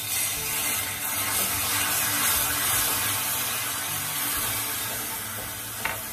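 Thick caramel sauce bubbles and sizzles steadily in a pot on the stove while being stirred with a wooden spoon, giving a dense, close crackling hiss that runs throughout, with a faint clink near the end.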